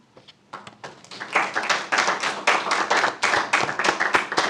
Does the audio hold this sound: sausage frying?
no